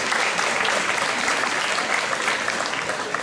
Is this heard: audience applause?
yes